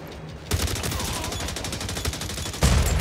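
Rapid gunfire from The Division Resurgence video game crackles in quick repeated bursts, a tight rattling string of shots followed by a heavier blast near the end.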